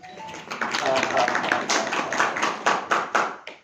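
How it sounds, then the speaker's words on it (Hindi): A class of students at a Brahma Kumaris spiritual class claps together for fellow students, a dense patter of hands that rises and falls in bursts over several seconds, with voices heard over it. "इनके लिए ताली बजाओ"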